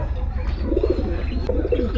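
Chinese and Mysore pigeons at a high-flying pigeon loft give soft, low cooing calls in a few short bursts, close by over a steady background hum.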